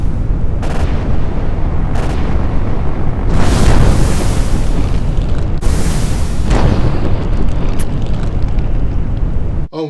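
Incoming barrage explosions during a naval air raid boom loudly one after another, several heavy blasts with rumbling decay over continuous roaring battle noise.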